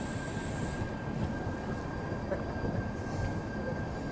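Train on an Indian railway approaching a station, a steady low rumble of rolling wheels and rail noise that builds gradually, with a faint high squeal above it.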